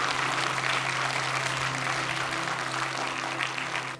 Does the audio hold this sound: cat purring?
no